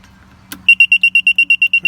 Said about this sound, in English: if your alarm goes out and it's not making a buzzing noise, and you can test that by just